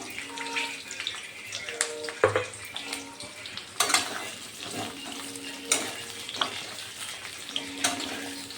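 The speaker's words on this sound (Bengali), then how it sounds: "এখন আমি তেলের মধ্যে প্রথমে আমগুলো দিয়ে দেব" Raw mango pieces for pickle are tipped into cooled oil in a pan, giving a soft sizzle with repeated scraping and stirring clatters and sharp clinks of utensils at close range.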